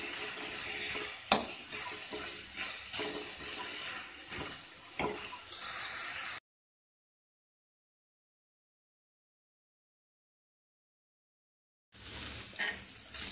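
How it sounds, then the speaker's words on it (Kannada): Mixed vegetables frying in a pan for creamy white sauce pasta give a steady sizzle with stirring scrapes and one sharp clatter, then stop abruptly into silence before the sizzle briefly returns. "ಈಗ ಈ ವೆಜಿಟೇಬಲ್ ಚೆನ್ನಾಗಿ ಫ್ರೈ ಆಗಿದೆ."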